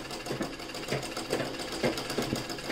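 A sewing machine stitches thread piping onto a garment neckline, its needle running in a steady, close, rapid mechanical rhythm throughout with no talking.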